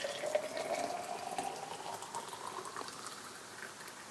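Boiling hot water poured from a kettle into jars, a steady liquid stream with a rising pitch as the containers fill, continuous and fairly close, no talking.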